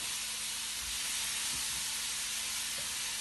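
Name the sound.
blanched tomatoes cooking in a pan for chicken chasseur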